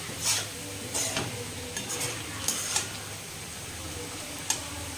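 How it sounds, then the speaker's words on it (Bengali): Potatoes frying in a wok give a faint, steady sizzle, with a few soft clicks and taps of a stirring utensil scattered through it. "এখানে আমি এখন একটু আলু ভাজা ভেজে নিচ্ছি"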